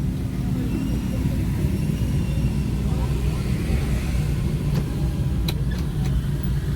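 Busy, jammed city street traffic makes a constant low rumble of car engines, loud and unbroken throughout, with a few faint clicks and higher sounds near the end.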